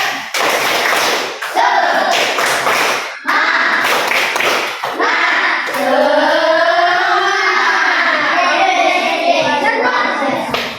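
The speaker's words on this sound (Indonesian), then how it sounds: "Tepuk semangat." A classroom of children performing a rhythmic spirit clap, sharp bursts of hand claps in patterned groups, followed by a stretch of children's voices chanting together.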